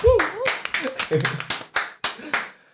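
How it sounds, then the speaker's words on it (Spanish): In a small studio, a handful of audience members give the guests a round of applause: several distinct, sharp claps in an uneven rhythm, close by, with a voice heard over the start. "por favor un aplauso para ellos otra vez"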